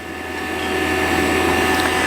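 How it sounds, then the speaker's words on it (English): A vacuum pump drawing down a tank with its gas ballast open, a steady loud mechanical whir with hissing airflow and a constant hum, rising slightly then holding level throughout. "First, flip on the gas ballast just to show you what that sounds like."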